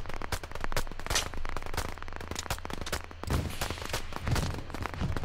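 Battle sounds in the multiplayer war shooter Operation Harsh Doorstop, with loud gunfire bursts and booming blasts packed densely for several seconds, including a heavy explosion partway through.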